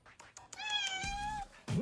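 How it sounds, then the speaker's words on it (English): A cat meows once, close and loud, a long drawn-out call at a yard sale, followed by a brief higher chirp at the end. "got a good meow"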